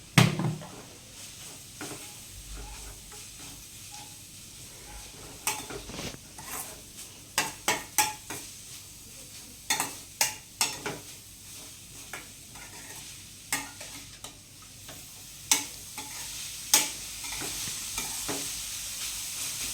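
Vegetables with turmeric and salt being stirred in a pan for a Kerala-style stir-fry: a soft background sizzle with a series of sharp spoon-against-pan scrapes and taps, irregular and close, clustering mid-way and thinning out later.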